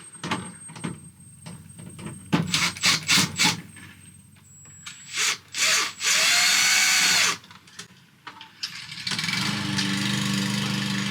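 Screws being driven out of the cover of a Dometic RV air conditioner, with repeated short, loud bursts of a power drill whirring, some longer runs, and clicks and handling noises between them, no talking.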